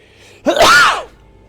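A single close, sharp sneeze with a quick inhale before it, then quiet.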